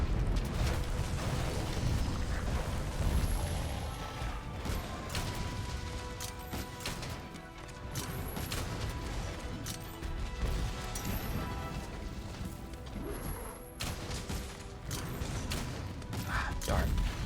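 Heavy bowgun fire and cluster bomb blasts in the Monster Hunter World: Iceborne video game, a steady barrage of crashing booms and mechanical clatter that runs for many seconds under intermittent talking.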